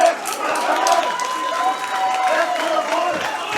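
Crowd at a kickboxing event cheering and clapping after a high kick and sweep, a steady roar of voices and applause filling the arena.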